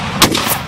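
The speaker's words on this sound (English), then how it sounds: "Keep low until those cannons fire." Cannon fire in a Gettysburg Civil War battle video game, two quick booming blasts about a third of a second apart over a rumbling battlefield background.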